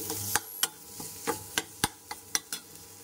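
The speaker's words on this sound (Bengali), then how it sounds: "তো আমি তেলের উপরে ডিম দিয়ে দিয়েছি আর ম্যাগি মশলা দিয়ে দিয়েছি।" An egg frying in oil with Maggi masala gives a soft, low-level sizzle broken by about ten sharp ticks and scrapes of a utensil against the pan, irregularly spaced and close.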